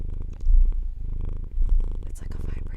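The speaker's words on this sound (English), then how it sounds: "His purrs are very magical." A cat purrs close up in a steady low rumbling rhythm of breathy cycles, with people talking softly over it.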